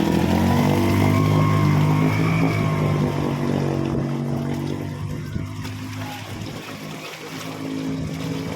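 A rumbling tricycle engine idles and churns close by in high-tide floodwater, its low drone gradually easing while water sloshes and trickles around it.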